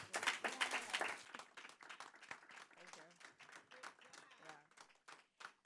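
Applause at a committee meeting: a short round of clapping from a small audience that fades quickly, with people talking over and after it.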